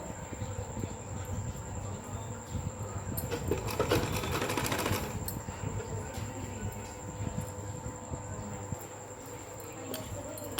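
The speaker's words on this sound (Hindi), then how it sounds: "एक एक प्लेट को उठाएंगे और दबाते हुए सिलाई लगाएंगे।" A sewing machine runs steadily while stitching pleats into a salwar, its busy mechanical chatter continuous and close, swelling louder midway before settling back to a steady hum.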